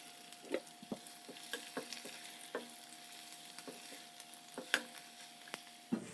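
Onions sizzling and frying in hot oil with garlic in a wok, a steady crackle broken by a few sharp stirring clatters, close up with no voices.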